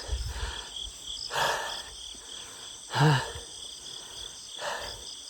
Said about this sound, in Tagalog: Hingal lang ang naririnig. Tsaka mga huni ng ibon at insekto.